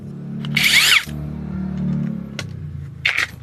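A Masaru SCDS-175 cordless screwdriver drills in gear two, its motor whirring steadily and close for about three seconds, with brief higher bursts of bit chatter at the start and near the end.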